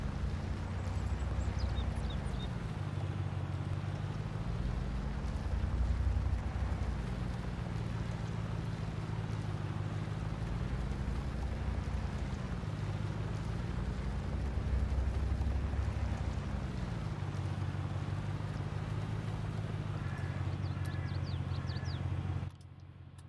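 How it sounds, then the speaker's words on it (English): Farming Simulator 22 vehicle rolling over gravel in the video game, a steady loud rumbling crunch with low engine drone that rises and falls in slow waves, continuous throughout and cutting off near the end. "Sounds like you're driving through gravel."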